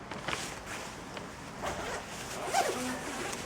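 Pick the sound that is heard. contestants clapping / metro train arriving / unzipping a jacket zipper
unzipping a jacket zipper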